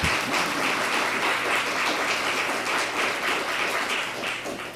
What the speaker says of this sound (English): Audience, please join me in thanking the candidates with a round of applause.